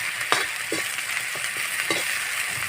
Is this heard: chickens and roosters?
no